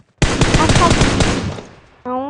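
Automatic gunfire in PUBG Mobile, a dense burst of rapid shots lasting over a second and fading, followed by a voice speaking.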